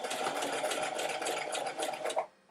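A sewing machine stitches a pajama sleeve for a 1940s-style lounge set, a quiet, fast rhythmic chatter of the needle that runs for a couple of seconds and then stops.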